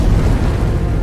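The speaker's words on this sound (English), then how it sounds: "Each explosion generated a mushroom cloud which rose rapidly to great heights above the volcano." Volcanic explosion on Montserrat, a deep sustained boom rumbling continuously with no pause.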